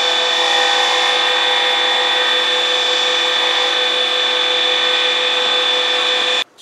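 A pen-turning wood lathe spins at about 2,800 RPM, giving a steady, loud, close whine with a constant even tone that cuts off abruptly at the end.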